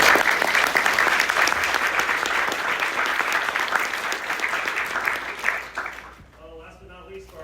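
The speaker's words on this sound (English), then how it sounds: "Let's give him a round of applause" Sustained applause from a crowd at a congressional debate tournament final, steady and loud for several seconds before fading out near the end.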